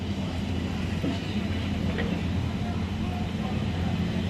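A train starting to move, recorded from inside a carriage: a steady low rumble and hum of the rolling coach with faint rattles, continuous and close, with no distinct voices.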